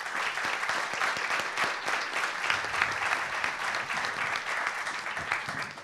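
Audience applause at a biodiversity and business panel event, a steady sustained clapping from a room full of people, dense and continuous throughout.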